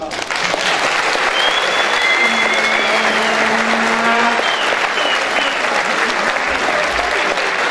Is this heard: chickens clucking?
no